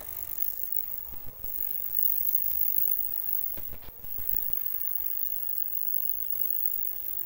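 An ultrasonic part cleaner runs with a bicycle chain soaking inside, giving a steady buzzing hum with faint rattling and clicking throughout.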